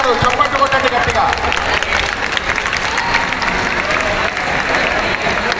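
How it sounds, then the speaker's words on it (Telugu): Audience applause at an Olympic Day Run 2022 event in Telangana, a dense, steady crowd clapping loudly throughout with faint voices mixed in. "చప్పట్లు కొట్టండి గట్టిగా"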